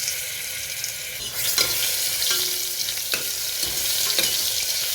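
Ginger-garlic paste fries in a pan with a steady broadband sizzle, punctuated by a few sharp stirring scrapes and clicks, close and moderately loud with no voices.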